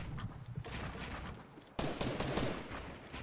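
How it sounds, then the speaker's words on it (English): Video game gunfire crackles in dense, continuous bursts, fairly faint overall, with a sharper, louder stretch of rapid shots kicking in halfway through. "What are you shooting, dude?"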